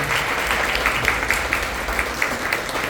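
A church congregation at a Sunday service claps to welcome newcomers. The applause is moderate and steady, with individual claps standing out and no clear speech.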